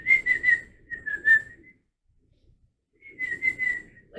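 Thin, high whistling in short wavering bursts, heard during a ghost hunt: a run of notes, about a second of silence, then another burst of similar chirpy whistles, fairly close and clear.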